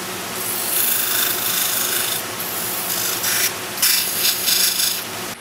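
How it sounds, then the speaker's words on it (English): Fine 400-grit sandpaper rubs into the grooves of a turned wooden piece on a lathe, a steady close rasping scrape that holds for several seconds and swells in bursts near the end, with no talking. "I'm going to get a little bit of 400 sandpaper and just sand in those grooves a little bit."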